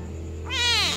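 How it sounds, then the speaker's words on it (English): A young adopted kitten gives one loud, close meow that rises and then falls, cutting through a quiet room hum. "my new adopted kitten"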